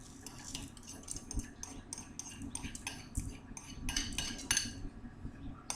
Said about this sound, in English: And this is the time I like to add my rice so it gets coated.